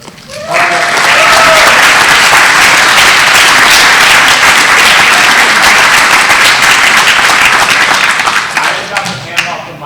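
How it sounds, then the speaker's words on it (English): Loud, sustained crowd applause at a Pechakucha Night event in Silver Spring, swelling quickly into a dense roar of many hands clapping that holds steadily for several seconds before thinning out, with a brief voice at the start. "please give a round of applause to all the"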